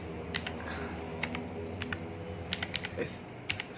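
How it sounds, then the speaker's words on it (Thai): Rapid, uneven clicks of computer keyboard keys being typed up close as a fastboot command is entered for rooting an Asus ROG Phone 3, over a low steady background hum. "ให้เราพิมพ์คำว่า fast boot fat"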